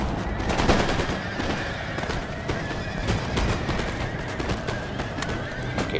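Line infantry volleys in Total War: Empire, played as Russians: dense, continuous crackling musket fire with rapid overlapping shots, loud and sustained over a noisy battle backdrop.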